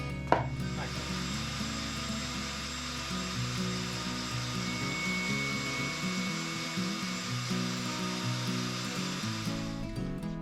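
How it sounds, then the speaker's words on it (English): A power drill whirs steadily for about ten seconds, stepping up through bigger bits while working on a 1969 Plymouth Fury III alternator tensioner, its motor pitch wavering as the bit bites in, with faint grinding underneath. "I'll step it up to bigger bits and we'll drill it all the way through"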